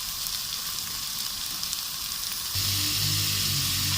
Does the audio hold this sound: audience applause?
no